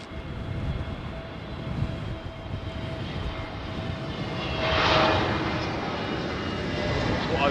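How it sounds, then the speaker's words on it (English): Boeing 787 Dreamliner landing at London Heathrow, a broad roaring jet rumble that swells as it passes and then holds steady, moderately distant. "that Dreamliner that we just saw there. He's coming in a bit hot"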